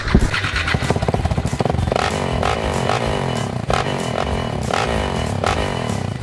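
A KTM SMC 690 single-cylinder motorcycle engine revs hard and steadily up close, with a constant loud roar broken by several sharp throttle blips and some mechanical clatter, and no talking.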